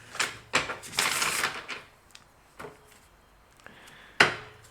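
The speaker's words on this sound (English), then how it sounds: "I feel like shuffling." Tarot cards being shuffled by hand at close range, a few quick riffling bursts and flutters followed by sharp taps and a final snap as the deck is squared, with no talk.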